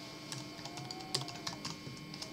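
Quick, light clicks of fingers typing on a computer keyboard, an uneven patter of keystrokes close up and fairly quiet, with no one speaking.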